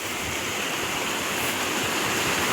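A small village waterfall and stream of runoff rush downhill in the evening. The water gives a continuous, close, fairly loud hiss and roar that stays steady throughout, with no talk.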